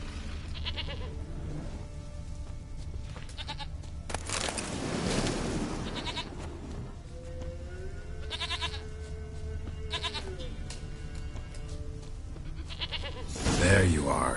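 A goat bleats in a video game between quiet ambient stretches, with short nasal cries and a louder bleat near the end, while a voice talks over the sounds.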